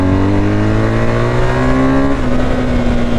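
A BMW GS 1250 motorcycle accelerates hard to overtake, its engine note loud and steady and close by, with the pitch climbing and then settling.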